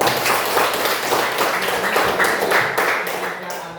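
Students in a classroom clap their hands together, a busy, uneven patter of many palms that is fairly loud and continuous, tapering slightly toward the end.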